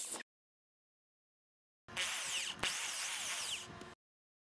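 A power drill bores two 5.7 mm holes into a rubber blower tip, a short whine at the start, then a loud two-second whirring burst after a pause.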